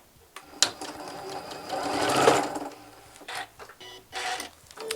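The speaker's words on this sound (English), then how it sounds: "we're going to line up the edge of one side with our 5-inch strip and sew it" A sewing machine stitches a 5-inch quilt strip from pre-cut fabric, a fast mechanical whirring run that builds to a peak and trails off into short intermittent bursts.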